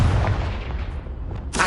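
In Hogwarts Legacy, the Confringo blasting spell goes off with a heavy, booming impact and a rumbling tail, followed by a sharp burst of noise at the end.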